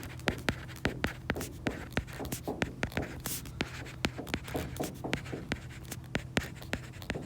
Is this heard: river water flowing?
no